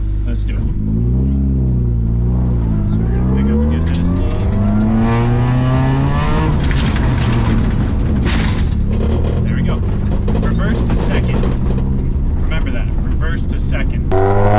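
Front-wheel-drive manual car performing a J-turn: loud engine revving with rising and falling pitch sweeps, then a rough rumbling scrub as the car rotates, continuous throughout with a voice talking over it.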